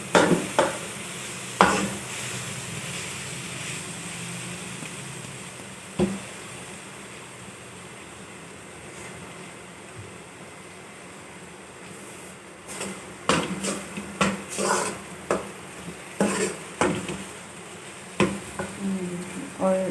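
Boiled moong dal being stirred in a cooking pot, with a steady soft scraping that swells into a run of sharper clinks and taps near the end.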